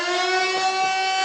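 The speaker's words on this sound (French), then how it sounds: "Alors on va faire un effet de sirène." A siren sound effect played on a radio broadcast: a steady, tonal wail with bright stacked harmonics, held evenly and loud for a short moment with no talking.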